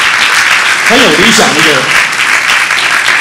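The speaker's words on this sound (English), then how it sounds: "They would never have applauded for you if I hadn't put my finger down" Audience applauding at a Christmas banquet, a loud, dense, sustained wash of clapping filling the room, with a voice speaking briefly over it midway.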